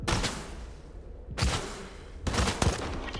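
Three sharp weapon shots in the Stalker 2 video game, each a loud close bang with a decaying tail, spaced roughly a second apart, no talking.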